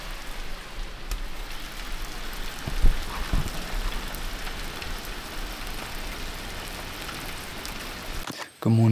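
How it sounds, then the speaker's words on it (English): Steady early-morning rain pattering on surfaces, a constant close hiss of drops throughout with a brief clatter near the end. "I'm just listening to the rain while I journal, and it's so peaceful."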